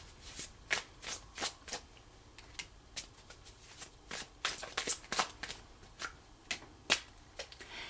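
Tarot cards being shuffled by hand, a steady run of soft, papery riffles and slaps over about eight seconds, close but quiet, with no voices.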